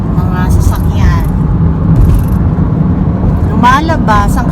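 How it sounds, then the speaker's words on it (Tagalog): Cars drive past steadily on a Calgary street in summer, a dense continuous road rumble with vehicles passing close by, while people talk over the traffic in bursts. "Mga sasakyan."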